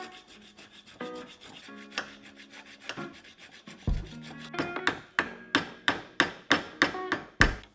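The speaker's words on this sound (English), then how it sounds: "So what I resorted to is using a saw. I'm just gonna cut through that bushing." A hand saw rasps back and forth through a rusted, seized motorcycle bushing, starting with scattered scrapes and settling into steady, loud, regular strokes close by, with no talking.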